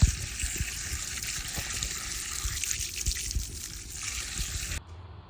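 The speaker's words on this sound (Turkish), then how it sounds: "Şimdi elmaları güzelce yıkadım." Apples being rinsed in water at a kitchen sink, a steady close splashing and trickling with small drips that cuts off abruptly near the end.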